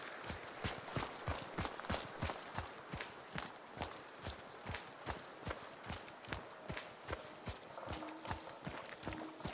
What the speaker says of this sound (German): Hier vorne habe ich, meine ich, gerade ein Pferd gehört.